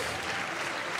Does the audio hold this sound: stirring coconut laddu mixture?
no